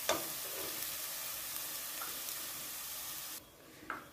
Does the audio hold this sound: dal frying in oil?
yes